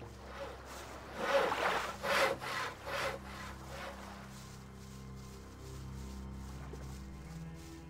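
Wooden boards being sawn by hand in the fantasy game Gothic II, a run of several rhythmic back-and-forth rasping strokes near the start, then fading into a low steady ambient hum with no talking.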